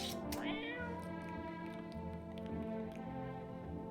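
A cat in a video game meows once, clear and close, over steady looping background game music.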